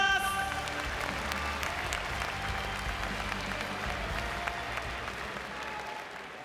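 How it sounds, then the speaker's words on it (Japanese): Audience applause in an arena during the RIZIN.46 mixed martial arts fight card announcement, a dense, sustained clapping from a large crowd that gradually fades, with no speech over it. "皆様盛大な盛大な拍手をお願いいたします。"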